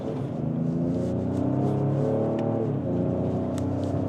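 A 2025 Ford Explorer ST, a 400-horsepower three-row SUV, accelerates hard out of a corner on a road course, its engine droning steadily and loudly throughout with a slight rise in pitch.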